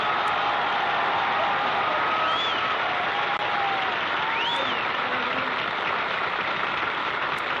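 Steady, dense applause from a television studio audience at a 1959–1960 bowling game show, sustained and fairly loud throughout without a break, with a few faint whistles rising above the clapping.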